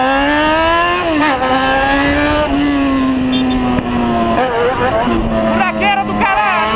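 A motorcycle engine drones loudly and close on a rough, pothole-filled road, its pitch rising and dipping as the throttle shifts, with a voice talking over the ride.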